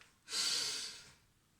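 A single slow, deep inhale drawn in through the nose during a guided OM breathing exercise, close and clear, fading into quiet with no talk.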